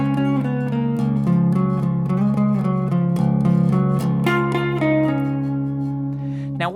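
An electric guitar plays a riff, a sustained, droning repeated figure with ringing low strings and a melodic walk down, steady and close with no talking.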